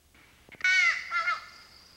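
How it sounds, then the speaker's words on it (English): A single crow gives a loud, harsh caw and then a shorter second caw outdoors, fairly close and with no other sound around it. "if you're just outside listening to birds, crows just call"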